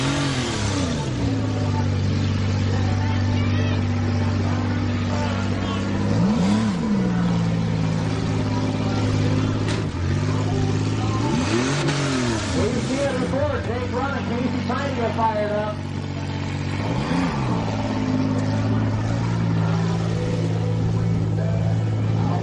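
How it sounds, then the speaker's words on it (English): Several demolition derby cars idle and rev at an open-class event, a steady loud engine drone with repeated rising revs throughout, while an announcer talks over the noise. "Both these cars are still running."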